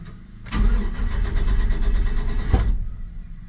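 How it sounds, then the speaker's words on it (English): An LS-swapped Squarebody truck engine cranks and fires up loudly with a sharp backfire pop near the end, then settles into a rough idle close by, with no talking. "Backfire."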